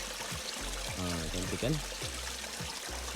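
A small hillside stream trickles and flows steadily at low volume, while a person talks over it briefly.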